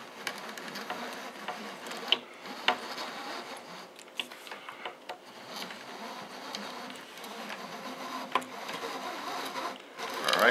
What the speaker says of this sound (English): So now we're just winding and getting our line on here.